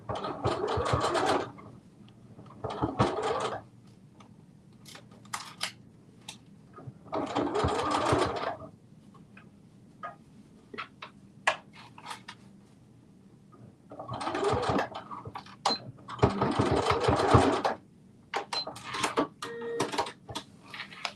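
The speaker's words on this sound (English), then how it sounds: "So we have sewed the rest of the dress together." A sewing machine stitching a dress from a Simplicity 9372 pattern, running in several close whirring bursts of a second or two each, separated by quiet pauses.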